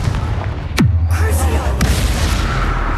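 A Confringo blasting spell explodes in Hogwarts Legacy, a sharp whooshing cast dropping into a deep booming blast that rumbles on, with a second crack shortly after over a dense game backdrop.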